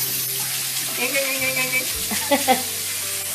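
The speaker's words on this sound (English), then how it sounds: "I'm gonna wash my hands real quick" Tap water runs steadily while hands are washed at a kitchen sink before cooking paella, a continuous close hiss with faint splashes and a soft tonal hum underneath.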